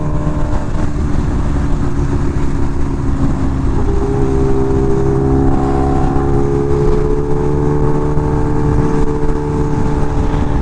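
Kawasaki Ninja H2R motorcycle being ridden, engine humming steadily under throttle with a pitch shift partway through as revs change, plus constant wind rush, no talking.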